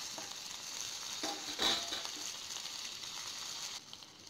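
Tomatoes roasting in a pan for tomato chutney, a soft steady sizzle with a brief stir or scrape partway through, close and fairly quiet, no talk.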